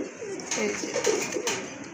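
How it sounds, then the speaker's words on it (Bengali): Two male pigeons coo in soft, rolling, repeated calls close by, against a faint background hiss. "ওই যে দেখেন, 2টাই কিন্তু আপনার নর কবুতর"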